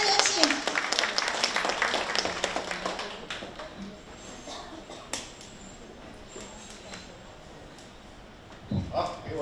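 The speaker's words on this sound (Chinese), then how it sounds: "大家掌声有请" Audience applause at a group business gathering, loud at first and thinning out over the opening seconds, then a quieter hall with scattered claps and a brief burst near the end.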